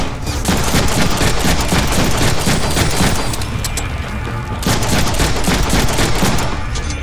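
Dense bursts of rapid gunfire from the Deadpool video game, a gun set to perforate firing in sustained loud volleys with brief gaps, crackling continuously over a busy battle din.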